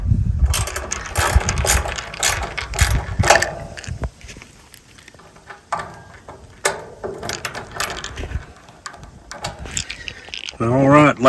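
Screws being driven as the cover of a Senville mini-split unit goes back on, close mechanical ratcheting and clicking with scraping plastic handling noises, fairly loud and continuous, ending in a brief voice.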